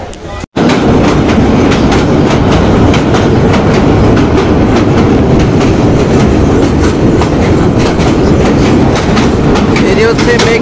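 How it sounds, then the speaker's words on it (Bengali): Parabat Express train running at speed, a loud continuous rumble with rhythmic clickety-clack of wheels on rails, heard from inside the carriage, briefly cut at the start and then steady throughout. "আমাদের পারাবতী এক্সপ্রেস ট্রেনটি এই মুহূর্তে ব্রাহ্মণবাড়িয়া এসে পৌঁছানো।"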